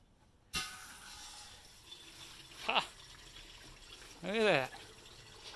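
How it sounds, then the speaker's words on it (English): A carboy washer fed through a water filter sprays water up inside a wine carboy, giving short bursts of hissing spray; a voice speaks briefly near the start. "I do have a water filter there so that I know good water is going up to clean it and not dirty hose water."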